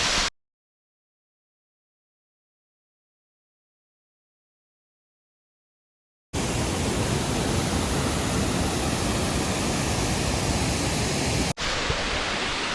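A waterfall near Shivamogga, carrying little water, slides down one long slanted rock face. After a long silence, a loud, even roar of falling water starts abruptly and continues steadily.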